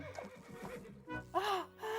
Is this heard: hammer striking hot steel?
no